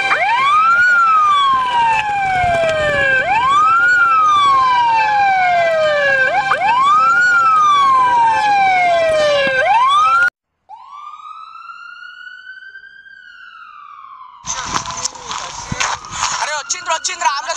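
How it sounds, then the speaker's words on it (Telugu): Ambulance siren wailing loud and close in repeated rising-falling sweeps for about ten seconds, then a brief swooping tone and a burst of harsh noise at the end. "అరే వచ్చిండ్రా అంబులెన్స్ వచ్చిండ్రా పట్టుడ్రా అంబులెన్స్."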